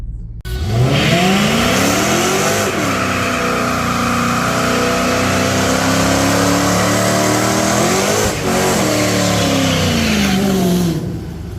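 An SRT Super Bee car engine revs hard during a tire burnout, a loud, close, continuous roar with rising and falling pitch sustained for about ten seconds, no talk over it.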